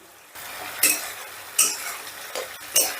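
Spice masala stir-fried in a pan with ginger, garlic and tomato paste, a low steady sizzle broken by three sharp scraping strokes of the spatula about a second apart, close and clear, no voices.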